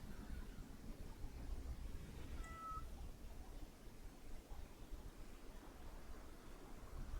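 A cat meowing in the colony-management game RimWorld, a faint short call heard over a steady low rumbling noise bed with no talk.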